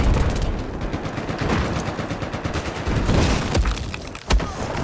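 Automatic FAMAS rifle fire in Battlefield 4, dense rapid bursts rattling almost continuously across the clip, loud and close with a sharp boom near the end, no talking.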